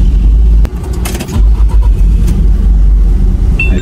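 A car engine that will not start properly is cranked and revved, a loud, low, continuous rumble that dips briefly and then surges again, with a few sharp knocks near the start.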